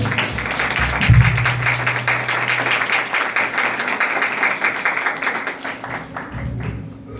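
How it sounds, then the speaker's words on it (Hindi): Congregation applause at a church service, a moderate wash of clapping with an audible rhythmic pulse, a low hum and a brief thump early on underneath, tapering off near the end. "आए भाई विक्टर के लिए जोरदार तालीम दा।"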